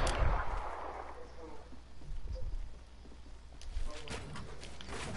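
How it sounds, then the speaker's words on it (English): Hand cannon fire in a first-person shooter video game: a loud booming shot at the start, followed by faint game effects while players chat. "A hand cannon."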